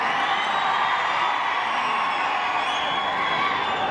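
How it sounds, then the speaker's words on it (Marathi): A dense crowd at a political rally claps and cheers in a continuous, loud wash of applause that holds steady throughout. "प्रचंड उत्साहाने लोक टाळ्या वाजवत आहेत"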